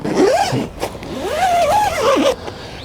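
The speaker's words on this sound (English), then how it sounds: "The door has a two-way zipper." A two-way zipper on the door of a Coleman Hooligan 4 tent is pulled in two close, fairly loud zips, a short one and then a longer sweeping pull.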